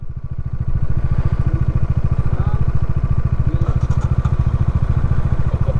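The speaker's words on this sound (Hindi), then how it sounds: "बाइक वाइक बंद मत करो, यहाँ कभी कभी चालू नहीं होती।" A motorcycle engine, with Royal Enfield Bullet riders nearby, runs near Umling La, one of the highest motorable passes in Ladakh. Its rapid thumping idle pulses steadily and close-up, with faint voices underneath.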